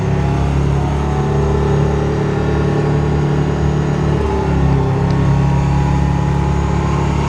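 Oshkosh M1070 HET 8x8 heavy truck with a 38,000-pound empty weight, its deep diesel engine droning steadily while driving and turning in a cul-de-sac, heard close from inside the cab with slight load changes.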